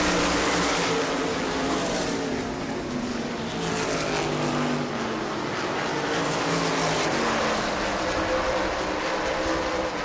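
Race cars roar around the track at New Smyrna during a World Series event, a dense, continuous engine drone with no break.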